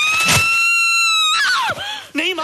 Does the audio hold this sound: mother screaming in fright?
yes